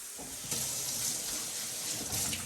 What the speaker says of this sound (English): I'm just gonna give it a rinse here.